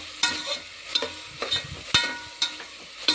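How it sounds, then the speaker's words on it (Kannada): Tomato and onion fry in a pan for chicken gravy, with a spoon scraping and stirring in sharp, roughly even strokes over a soft sizzle. "ಒಂದು 5 ನಿಮಿಷ ಫ್ರೈ ಮಾಡಿದ್ರೆ ಸಾಕು."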